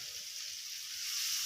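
Ground spice paste sizzles in a hot oil-filled wok as it is stir-fried for quail egg balado, a steady close hiss of frying that swells slightly toward the end.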